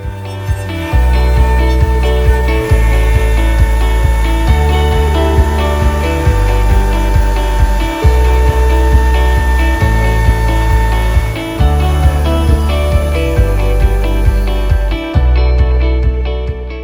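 CNC router roughing out the outer contour of a beech cutting board, a loud continuous milling whine with a regular pulsing rhythm that repeats throughout before ending abruptly.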